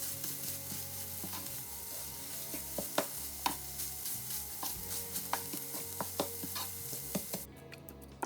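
Egg and tomato fry sizzles in a pan while a spoon stirs it, with steady frying hiss and repeated close scraping clicks of the utensil against the metal.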